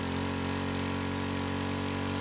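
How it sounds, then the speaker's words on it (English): A WW2-style tank engine in Stormworks revs steadily with the clutch disengaged, giving a continuous droning hum with a buzzing harmonic tone that holds even and loud throughout. "Let that engine rev."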